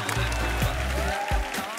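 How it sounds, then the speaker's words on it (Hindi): A studio audience on a Hindi comedy chat show claps in a brief, sustained burst, with a voice talking over it and a low steady hum underneath. "तालियां।"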